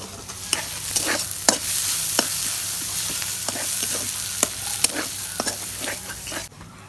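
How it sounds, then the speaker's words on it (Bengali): Onion and chillies fry in oil for chowmein with a loud, continuous sizzle. Regular spatula strikes and scrapes against the pan recur through it. "পেঁয়াজ মরিচ ভাজা হয়েছে"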